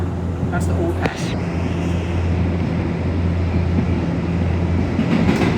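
R211A subway train on the D line approaching Avenue S near Coney Island, a steady loud rumble and wheel hum with a rattle, heard from inside the car while people talk.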